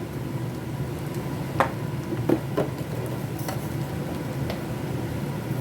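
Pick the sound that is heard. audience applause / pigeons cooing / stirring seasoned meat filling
stirring seasoned meat filling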